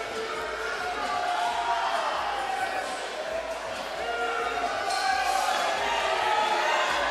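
A bowling crowd at a women's professional lanes event roars and cheers in a steady, dense wash of noise that carries on without a break, with voices mixed throughout.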